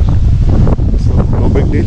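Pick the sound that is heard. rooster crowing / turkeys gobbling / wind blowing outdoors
wind blowing outdoors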